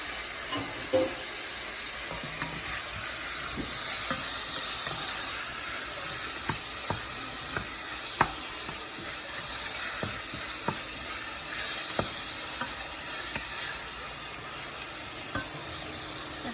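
A sauce being stirred in a pan over a large burner on high heat, a steady sizzling hiss with soft, irregular scraping clicks from the stirring utensil running throughout, moderately close, no voices.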